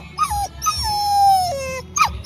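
A dog whimpers and whines in long, rising and falling cries, high and close, with low background rumbles between them.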